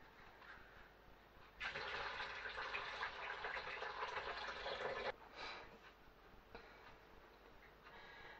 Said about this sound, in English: we're going to drain the water out.